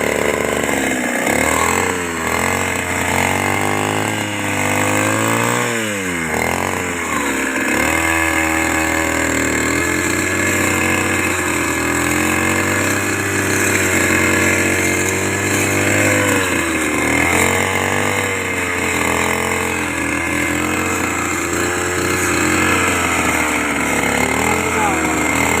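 An old-style grass cutter engine runs continuously up close, a loud buzzing two-stroke drone that rises and falls in pitch as the throttle changes, with people talking over it.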